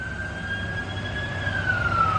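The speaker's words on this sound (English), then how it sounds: "ambulances going by, fire trucks" An emergency siren wails steadily as a passing ambulance or fire truck goes by, one sustained tone that bends lower toward the end, over low traffic rumble at moderate distance.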